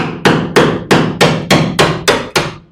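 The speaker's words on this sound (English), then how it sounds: "I'll push it up with my spot weld breaker and hammer" Eight sharp metallic hammer strikes on a spot weld breaker, evenly spaced at a steady rhythm, close and loud, each ringing briefly before the next blow, during outer frame repair on a 1965 Thunderbird Convertible.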